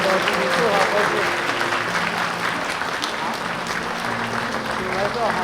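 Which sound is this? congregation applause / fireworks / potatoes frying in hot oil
congregation applause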